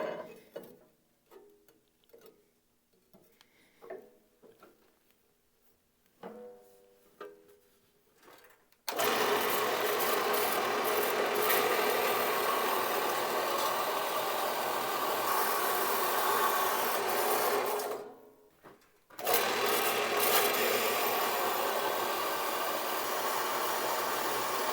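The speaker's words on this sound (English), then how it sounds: "I can go ahead and cut it to length using the bandsaw to get a nice straight cut." A bandsaw cuts steel stock to length for a grapple build, running as a loud, steady continuous grind that holds for about nine seconds, stops briefly, then resumes just as strongly; quieter clicks and shop handling come before the cut.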